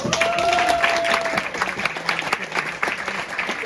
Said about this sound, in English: So give her another round of applause as well.